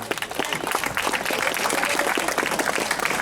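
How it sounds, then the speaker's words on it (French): A stage crowd applauds the 2015 Paris race winner, dense and steady clapping filling the space for several seconds with faint cheering underneath. "Applaudissements pour le vainqueur de Paris-Codéré 2015, Romain Guyot."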